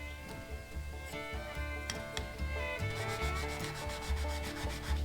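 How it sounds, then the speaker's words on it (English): Red scuff pad scrubbing a heat-blued dirt bike engine part, a close, quiet run of rhythmic rubbing and rasping strokes over a faint tonal background hum. "I'm just taking this red scuff pad, and you can see the difference"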